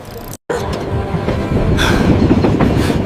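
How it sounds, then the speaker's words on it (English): A train pulls out of Bombay station, a steady rumbling roll of wheels on rails building slightly in loudness after a brief gap near the start, heard alone and fairly close. "As the train pulled out of Bombay"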